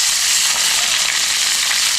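Stuffed pomfret wrapped in banana leaf frying in hot oil, giving a steady, loud, close hiss and crackle that holds unbroken throughout with no voices.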